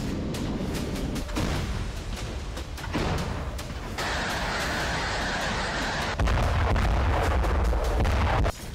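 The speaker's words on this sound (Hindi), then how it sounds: "सिर्फ 50 यूक्रेनी सैनिकों को मारने के लिए 20 से ज्यादा रॉकेट हमला।" Rocket and artillery fire from a war zone in news footage: a dense, loud barrage of booms and cracks that runs on continuously, with no pause between bursts.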